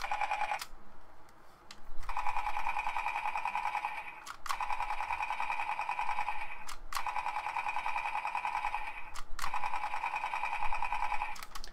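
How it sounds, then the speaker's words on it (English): Electronic toy gun bursts from a small speaker built into a Wii game-controller magazine: four rapid buzzing rattles, each lasting a couple of seconds, with brief clicks between them. "it's sort of a sound that probably would come from like a toy gun"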